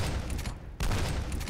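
Anti-material rifle fire in a video game: two heavy, booming shots close together, each with a broad rumbling tail, loud and alone.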